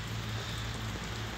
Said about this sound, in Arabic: الحمد لله جات هاد الشتيوه